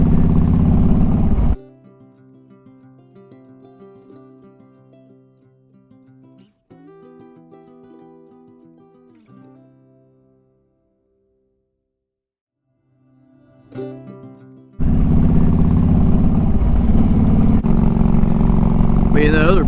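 A Harley-Davidson Street Glide fitted with Vance & Hines True Dual exhaust roars loud and close at the start and again for the last few seconds. A quieter stretch with faint tonal sounds sits between, and a voice talks over parts of it.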